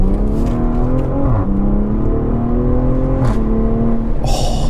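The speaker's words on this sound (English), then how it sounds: "You can hear that exhaust burbling away" A car's exhaust burbles at idle and low revs, with a loud, steady, deep rumble that rises and dips in pitch, heard from inside the cabin.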